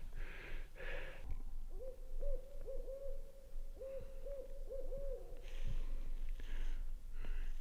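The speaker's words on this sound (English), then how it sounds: "We got the owl out tonight." An owl hooting at night during a late-season mule deer hunt in cold, freezing conditions: a run of repeated low hoots in quick succession, fairly close and clear over a quiet background, with no one talking.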